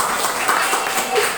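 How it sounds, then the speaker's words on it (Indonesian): A classroom applauds a student group after its presentation with a short burst of dense clapping, and voices murmur underneath it. "Yang tepuk tangan untuk kelompok."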